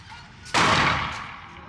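A single loud, close shot from an HK P2000 SK handgun at an outdoor range cracks sharply, then rings out in a decaying echo for about a second.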